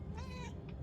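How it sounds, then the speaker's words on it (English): A cat meows once, a drawn-out wavering cry with a brief trailing note, faint behind steady low background ambience in the video game Murdered: Soul Suspect. "Was that a cat?"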